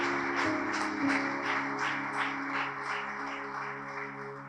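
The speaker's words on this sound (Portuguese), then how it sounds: "que essas palmas sejam para o Senhor" A church congregation claps in unison at an evangelical community anniversary service, the hand claps landing in an even, steady rhythm over sustained background music for several seconds.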